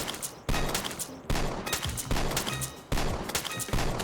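Rapid bursts of gunfire in the Roblox game Too Many Weapons Simulator repeat in sharp volleys, with brief pauses between clusters of shots that sound moderately loud and close, and no talking.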